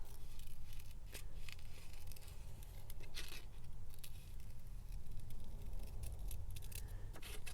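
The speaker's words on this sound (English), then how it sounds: "I really should speed up this part where I'm fussy cutting." Scissors fussy cutting paper for a collage page, a steady run of close, crisp snips and rustling paper scrapes repeating throughout with no voices.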